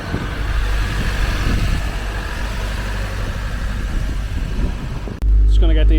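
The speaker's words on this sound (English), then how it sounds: "Now for a car that hasn't been started in over a month, started up straight away" A VTEC-swapped Mini that has sat unstarted for over a month idles with a steady, even engine drone close by, then a sharp click cuts in near the end and a louder low rumble follows.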